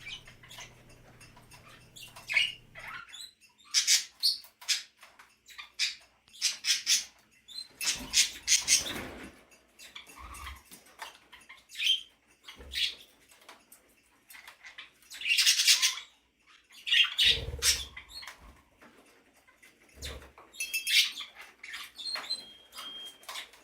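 Large parrots mixed with rosy Bourke parakeets, Kakariki and Java finches in an aviary give scattered squawks, chirps and short calls, with wing flaps and light pattering in bursts and quieter gaps between.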